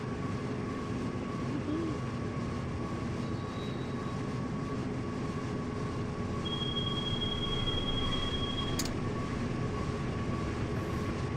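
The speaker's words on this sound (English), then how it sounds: "Oh, is that Amtrak? Yeah. That's Amtrak." An Amtrak Pennsylvanian passenger train rolling past in a Run 8 Pitts Line operation, a steady dense rumble with a sustained tonal hum and a thin high squeal appearing late.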